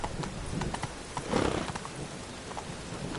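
Roach, the horse in The Witcher video game, galloping: steady rapid hoofbeats under a dense rumbling wash like rain, continuous and close, with a brief louder swell midway.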